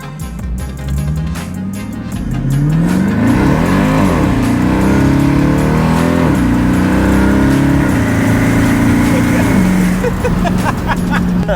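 A 700HP Jaguar super sedan pulls away, its engine rising from a rough idle into a loud, sustained deep roar with shifting pitch, heard close and dominating throughout.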